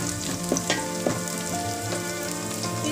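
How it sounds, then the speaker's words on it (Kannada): Masala spices fry in hot oil in a pan for a South Indian methi pulao, giving a steady loud sizzle with a few sharp crackles and stirring clicks scattered through it. "ಮಸಾಲೆ ಐಟಮ್ಸ್ ಹಾಕೊಂಡಿದ್ದೀನಿ, ಅದೊಂದು ಸ್ವಲ್ಪ ಹುರ್ಕೊಳ್ಳೋಣ"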